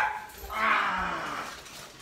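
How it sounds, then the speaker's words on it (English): Several household dogs bark loudly indoors as someone arrives home, a short burst of overlapping barks with a faint voice in the background. "The dogs get so loud, so I apologize for that."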